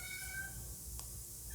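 A cat meows indoors, a single short cry heard faintly against a steady background hiss, with a second brief call starting at the end.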